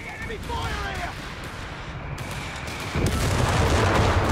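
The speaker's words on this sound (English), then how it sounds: "No, that's carpet bombing, I believe." Carpet bombing in Company of Heroes 3 rolls in as dense rumbling explosions that swell into a heavier barrage near the end, mixed with scattered gunfire and battle noise.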